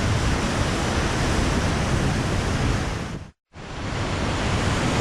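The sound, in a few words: waterfall in Colombia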